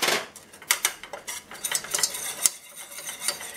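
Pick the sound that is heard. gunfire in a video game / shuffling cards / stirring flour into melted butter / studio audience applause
stirring flour into melted butter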